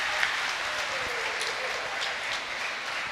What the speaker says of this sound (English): let's have a huge round of applause for Stargirl.